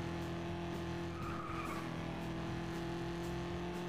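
Car engine droning steadily with tyre skids and squeals while racing in FlatOut 2, a continuous loud mechanical hum with no talking.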